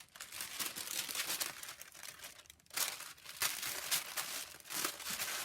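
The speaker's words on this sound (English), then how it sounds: "Sorry for the rustling." Sewing pattern paper for Tilly and the Buttons Stella joggers rustles and crinkles steadily up close while pieces are cut, with several louder crackling bursts and no talking.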